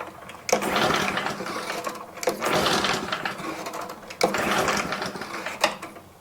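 Pull cord yanked repeatedly on a Toro Turf Master lawn mower whose engine won't start, with three or four rattling mechanical bursts from the recoil starter turning over compression, close up, and no engine catching.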